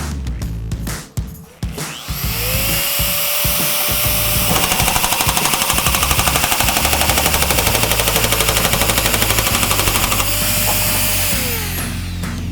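A Trumpf TruTool N500 power nibbler cuts 1/8 inch stainless steel at 5.5 feet per minute, a loud, steady, rapid machine-gun-like chatter that runs for several seconds after a brief start-up whine and winds down at the end.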